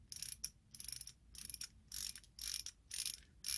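Focus control on a flashlight from a small Rhino Rescue first aid kit being turned, giving bursts of quick ratchet-like clicking in a repeating rhythm, close and alone with no talk.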